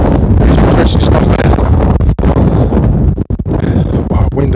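Strong wind buffets the microphone in a loud, continuous roar with brief dips, gusting close and harsh throughout along Clementsgreen Creek and the River Crouch.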